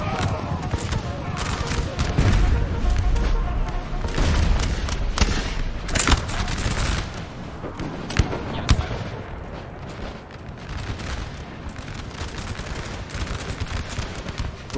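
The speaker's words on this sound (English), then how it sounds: "they're gonna shoot him in the back." Massed musket volleys and crackling gunfire from a 4v4 Napoleon: Total War battle, with skirmishers firing into a French unit, roll in dense overlapping bursts with occasional sharp cracks, loud throughout, while someone talks over them.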